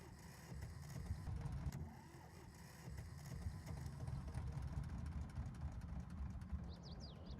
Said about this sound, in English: we have the engine spinning